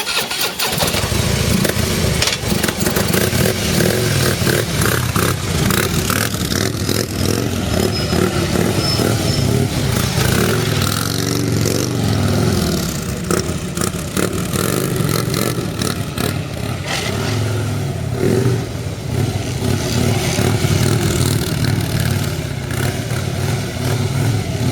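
A motorcycle engine runs steadily through slow, tightly controlled low-speed maneuvers, loud and close, with a rumbling idle and small throttle blips.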